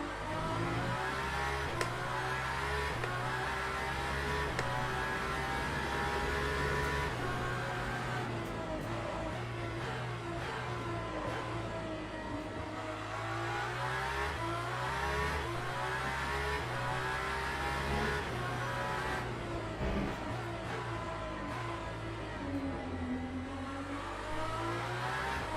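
A race car engine roars continuously in the sim racing game Le Mans Ultimate, revving up and down through gear changes in a steady, loud drone with no voices.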